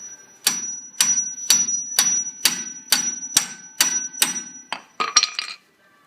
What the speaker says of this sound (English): it took quite a few minutes of pounding before we managed to get these finally loosened up